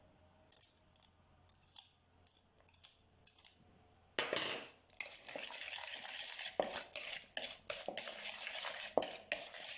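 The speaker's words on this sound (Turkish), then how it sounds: "Yağ ile yumurtamızı birbirine güzelce yedirelim." Oil and eggs are stirred together in a bowl for Starbucks-style cookie dough, with scraping and sticky stirring strokes that begin lightly and grow louder and more continuous after a few seconds, close and with no talking.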